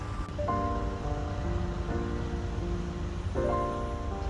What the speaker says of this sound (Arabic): والمية دي كمان بيبقى فيها أمواج صناعية عشان تبقى زي البحر بالظبط